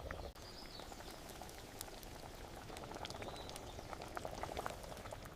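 Baingan masala simmers in a miniature pot, giving a faint, steady bubbling patter with scattered tiny pops, quiet and close with no voices.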